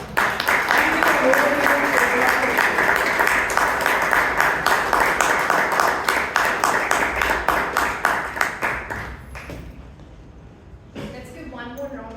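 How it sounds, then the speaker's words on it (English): A Toastmasters club audience in Bangalore gives a long round of applause, many hands clapping steadily and loudly, then thinning to scattered claps before it stops and a voice begins speaking. "Can we have a loud round of applause for them again?"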